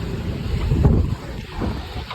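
Strong storm wind roars and buffets the microphone with a steady, rumbling rush that swells and eases slightly.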